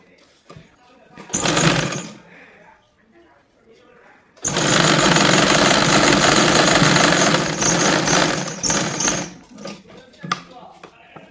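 A sewing machine runs in two bursts while stitching a blouse front neck, a short whirring run followed by a longer, steady, close rattle of fast stitches before it stops, with faint sounds between.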